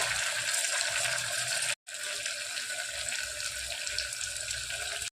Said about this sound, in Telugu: ఇప్పుడు ఉల్లిగడ్డ వేస్తున్నాను.